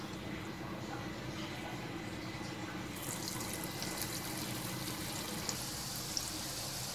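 Soybean kofta balls fry in medium-hot oil in a kadhai, making a dense, steady close-up sizzle with a couple of small pops near the end and no voices.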